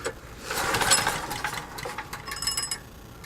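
A small generator engine modified to run on hydrogen is cranked over, making a rapid mechanical chatter that rises and falls in short bursts, close and moderately loud, and it does not catch.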